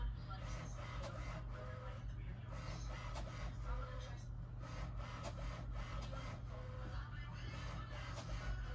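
An HP Smart Tank 515 inkjet printer runs an alignment, giving a close, steady mechanical whir with rhythmic rubbing and clicking carriage passes over a constant motor hum.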